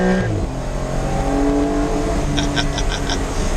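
A Porsche sports car's exhaust revs loudly and steadily close by, a rich droning engine note that rises in pitch as it accelerates.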